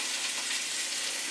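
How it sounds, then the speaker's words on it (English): Pork chops sear in a pan with a dense, even hiss of sizzling fat. The sound holds steady and close for a brief moment, with no voices. "while we're waiting for our pork chops to finish searing"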